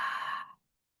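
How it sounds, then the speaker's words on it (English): A long, slow breath out during qigong breathing practice, a soft airy exhale that fades away after half a second into silence. "long exhale."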